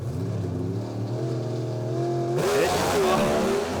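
A Pro Stock drag racing car at Willowbank Raceway revs hard. Its engine note climbs and surges in steady, loud, close waves, with a commentator talking over it.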